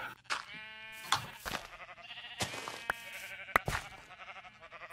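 Sheep bleat repeatedly in a video game, several distinct nasal calls overlapping at varied pitches, fairly close and fairly quiet, with no talk over them.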